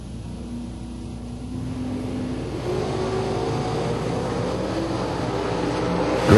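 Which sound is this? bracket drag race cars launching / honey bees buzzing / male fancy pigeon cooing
bracket drag race cars launching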